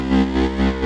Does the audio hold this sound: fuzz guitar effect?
yes